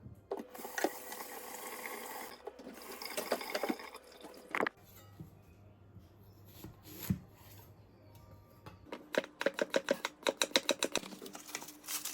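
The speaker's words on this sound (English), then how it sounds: "Give these a quick wash" Sweet potatoes being rinsed under a running tap, with a hiss of flowing water and splashing, then a run of rapid close knocks and rubbing as the potatoes are handled.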